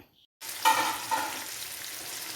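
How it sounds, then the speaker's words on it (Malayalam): Pomfret (avoli) fish frying in oil in a pan gives a steady broadband sizzle that swells after a short silence and keeps on evenly and close. "മീൻ ഒന്ന് മറിച്ചിട്ടു ഞാൻ അത് ഇച്ചിരി നേരം കൂടെ ഇരുന്നു വേവട്ടെ"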